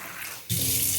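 A tap opens halfway through and water runs steadily into a vessel, a sudden, close, continuous gushing splash after a quiet start.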